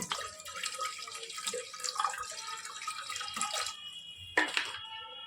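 Water is poured into a pot of mutton biryani with cinnamon and salt, a steady close splashing trickle with bubbling and uneven gurgles, ending in a brief louder splash.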